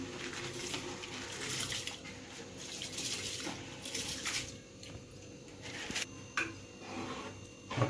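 Water pours into a pot holding two glasses of rice for chicken biryani, a steady splashing gush that swells and fades with a few sloshes and drips, fairly quiet and with no talking.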